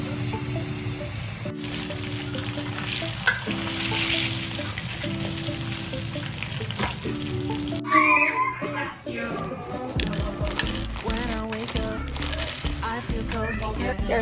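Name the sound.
frying breaded pork chop in oil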